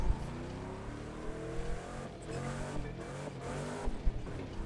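A car drifts through corners in The Crew 2 racing game, a classic 1967 Chevrolet Impala or 1957 Cadillac Eldorado, with a sustained engine roar and faint tire noise heard steadily throughout.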